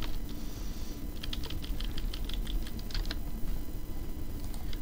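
Fingers tap out VBA code on a computer keyboard, a close stream of light, rapid keystrokes in uneven bursts over a steady background hum, with no talking.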